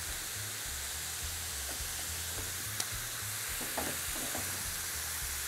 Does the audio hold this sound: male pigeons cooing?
no